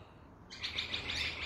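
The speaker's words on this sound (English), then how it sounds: "And there is my bird," A pet bird in a backyard chirps in a quick series of bright, high tweets that begin partway through, fairly close and distinct against a quiet outdoor background.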